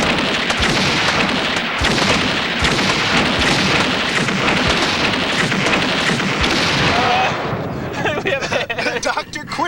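Rapid, dense gunfire blasts a stuffed animal at point-blank range outdoors at the Burning Man festival in 1994, a loud continuous barrage of shots for about eight seconds before tapering off, with voices mixed in.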